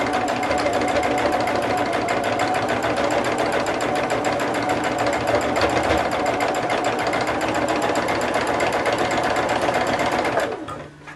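Sewing machine stitching quilt fabric, a loud, close, steady rapid whirring and needle clatter running continuously for about ten seconds before slowing and stopping.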